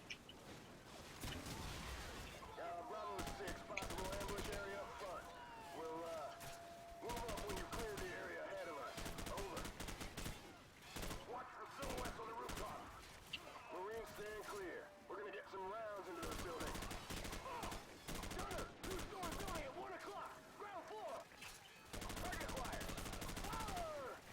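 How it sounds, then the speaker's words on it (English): Call of Duty 4: Modern Warfare gameplay gunfire crackles in rapid bursts and single shots throughout, dense and close, with a voice talking over parts of it. "I'll just kill him for the sake of it."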